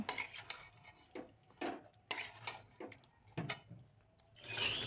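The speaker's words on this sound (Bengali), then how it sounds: "নাড়াচাড়া করে নিতে হবে নাড়াচাড়া করে আবার ঢাকা দিয়ে দেব দশ মিনিটের জন্য" A spoon stirring chicken curry in a pot, scraping and clinking against the metal in uneven strokes, close and moderately loud, with a brief hiss at the end.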